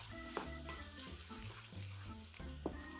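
Vegetables fry in a pan for fried rice with king prawns and scallops, a soft sizzle under faint background music, with a couple of brief clinks as they are stirred.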